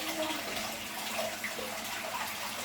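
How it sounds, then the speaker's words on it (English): Water from a tap pours steadily into a baby bathtub at home, a soft continuous splashing hiss with no voices over it. "She's intrigued by the water coming out."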